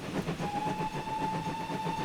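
A steam locomotive whistle in a train simulator game sounds a steady, clear tone after a brief start and holds it to the end, over a soft rhythmic rolling rumble of the train.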